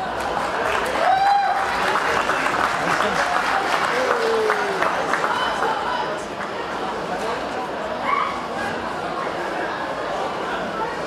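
An audience at a game expo awards ceremony claps steadily for several seconds, the applause thinning out toward the end, with some crowd chatter mixed in.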